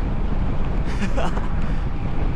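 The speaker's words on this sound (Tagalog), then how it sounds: "Ito, sandamakmak pala hangin." Strong wind roars and buffets the microphone nonstop during a bicycle ride, loud and close, with no clear speech.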